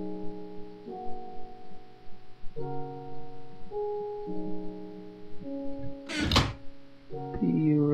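A single short burst from a ray gun in a Minecraft gun mod fires once near the end, sharp and loud, standing out over a calm backdrop of stepping synthesized tones.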